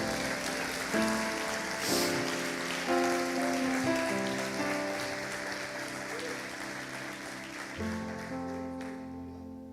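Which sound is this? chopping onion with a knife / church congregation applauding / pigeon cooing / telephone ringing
church congregation applauding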